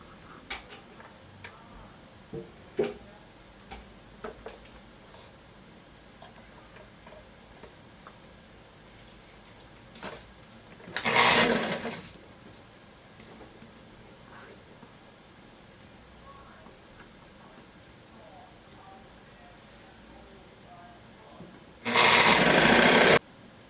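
A domestic sewing machine stitching a seam on a sunflower-sleeve dress, two short loud whirring bursts separated by a long stretch of quiet handling clicks and ticks, close and without speech.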